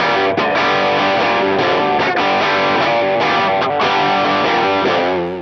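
Electric guitar played through an Analogman King of Tone overdrive pedal, a loud, sustained distorted chord pattern with driven harmonics that rings steadily, then fades at the end, with no talking.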